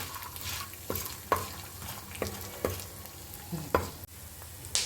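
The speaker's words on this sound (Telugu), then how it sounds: "ఇవన్నీ బాగా ఎర్రగా వచ్చే వరకు మంచి వాసన వచ్చేదాకా వేసుకోవాలి" Spices, mustard seeds and green chillies frying in a pan for amla chilli pachadi, a soft steady sizzle broken by regular stirring scrapes and light clinks, close and quiet, with no talking.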